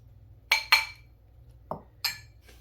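Brown and white granulated sugar are stirred together in a bowl, giving a few sharp clinks of a utensil against the bowl, spaced irregularly and close by in an otherwise quiet kitchen.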